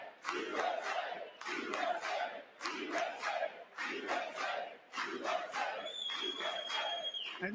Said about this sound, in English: they're shouting them down from the other side, from the Republican side.